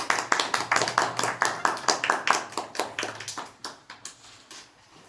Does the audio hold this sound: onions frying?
no